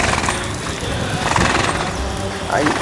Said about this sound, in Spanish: hay tres caballos en este momento en la piscina